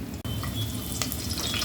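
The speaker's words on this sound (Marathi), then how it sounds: "अशी लसणाची फोडणी दिली ना" Garlic sizzling in hot oil as a tempering for a village chicken curry, a steady close crackling fry with a brief break near the start.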